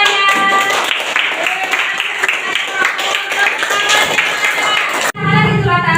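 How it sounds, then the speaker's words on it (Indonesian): Students in a seventh-grade madrasah Islamic ethics class clap together as a group, a dense, steady patter lasting several seconds before stopping abruptly. "Tepuk tangan semuanya."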